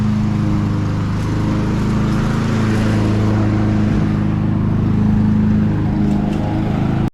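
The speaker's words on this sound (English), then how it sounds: "We've finally got our mower working, so we're going to mow this grass for the first time this year" Petrol lawn mower engine running at a steady loud drone close by on a small garden lawn, continuous and unbroken until it cuts off at the end, with no talking.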